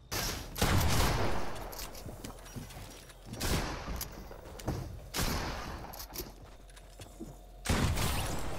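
Several loud, sharp bursts of gunfire in Fortnite ring out at irregular intervals, each followed by a short decaying tail, with quieter mechanical clicks in between.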